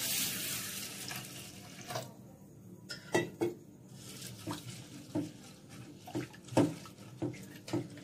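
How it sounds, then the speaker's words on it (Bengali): Red lentils being washed by hand in water, repeated soft splashing and swishing in a bowl, uneven rhythmic sloshes with a brief lull, close and moderately quiet, no talk. "ডালটা প্রথমে আমি জল দিয়ে ধুয়ে নেব দুবার তিনবার ভালো করে"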